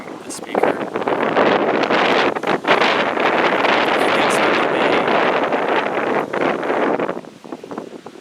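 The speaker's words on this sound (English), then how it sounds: "I hope you can hear me without the wind ruining the speaker" Strong wind buffets a microphone outdoors, a loud continuous roar of rushing, blustery noise that swells and gusts for several seconds before easing toward the end.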